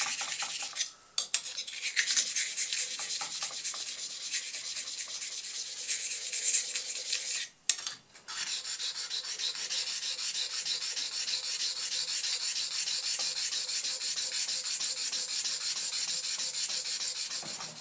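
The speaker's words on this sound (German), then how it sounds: "erstes schleife ich mir jetzt die kleine Ziehklinge hier schön rechtwinklig und glatt" Steady scraping and rubbing of a small steel card scraper across an abrasive sharpening stone, continuous back-and-forth grinding with two brief pauses, close and fairly loud, no talking.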